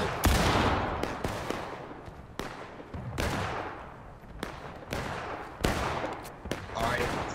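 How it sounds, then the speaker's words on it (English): Rifle volleys from the American Civil War video game War of Rights crack out in repeated loud bursts, several shots close together with scattered reports in between, under intermittent voice chat. "I need to hear more rifles firing."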